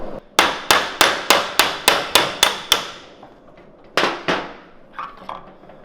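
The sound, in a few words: hammering off a golf cart part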